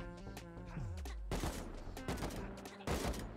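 Rapid bursts of gunfire from the video game Rust crack out in dense, overlapping volleys over about three seconds, loud and close, with scattered impacts and a brief low rumble between shots.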